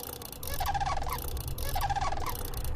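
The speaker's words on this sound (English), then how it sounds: "we have to listen to this stupid owl" An owl in Forgotten Hill Disillusion calls twice in a repeated pattern, a wavering, gobbling hoot over a low steady rumble, moderately loud and near.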